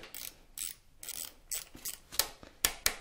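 Ratchet clicking from a wrench at a wheel, in quick irregular bursts of sharp metallic clicks, close and fairly quiet, with no talk.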